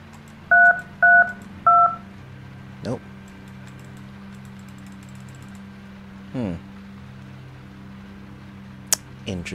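Telephone keypad in The Guest video game, three clear dialing beeps in quick succession followed by a few soft clicks and knocks against a quiet hum.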